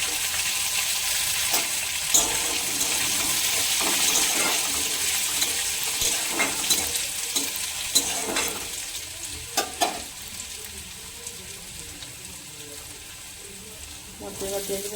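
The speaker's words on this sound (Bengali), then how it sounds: "রসুন কুচিটা একটু হলে করে তারপরে দিয়ে দেবো আদা কুচি" Chopped garlic and ginger fry in a pan for a home-style egg tadka, a steady close sizzle with occasional stirring scrapes and clinks running throughout.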